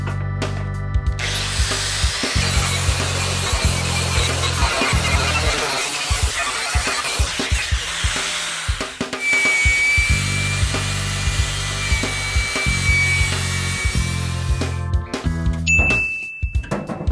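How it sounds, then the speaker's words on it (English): Angle grinder fitted with an industrial wire brush scours rust off an old metal school locker, a loud continuous abrasive whir and grind that runs throughout with brief dips and shifts in pitch as the brush moves across the steel. "This is an angle grinder with an industrial wire brush."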